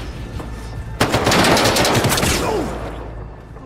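A rapid burst of loud gunfire erupts suddenly, a dense rattle of shots lasting a couple of seconds before fading out.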